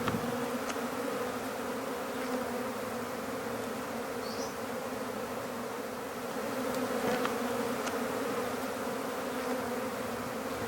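A swarm of bees in a tree, a dense, continuous buzzing drone that stays steady and moderately loud throughout, with no voices.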